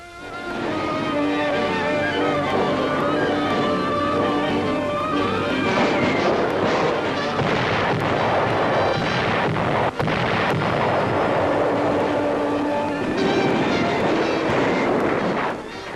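Old wartime newsreel sound of artillery fire and battle during the siege of Vilna, a dense continuous roar with repeated sharp booms and blasts standing out, loud throughout with no narration over this stretch.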